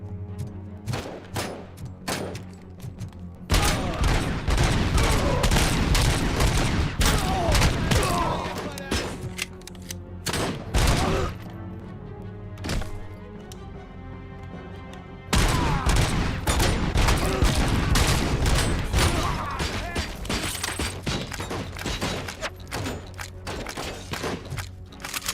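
Rapid bursts of gunfire ring out from a gun in Robocop: Rogue City, loud sustained volleys broken by short pauses and scattered single shots, with mechanical clatter and booming impacts throughout.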